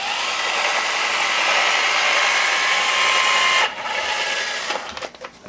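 A DEWALT 20V cordless caulking gun dispensing caulk, making a steady, close motor whir for several seconds that shifts in pitch, then cuts off into a few small clicks.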